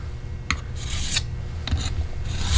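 A single-bevel broadhead edge is drawn across a sharpening stone in two or three rasping strokes, close and alone, to clean off the burr.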